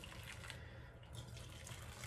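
Steady rush of water pouring into a container, a continuous splashing flow with no pauses, fairly quiet and close.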